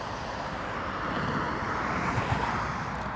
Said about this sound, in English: Ryanair from Liverpool.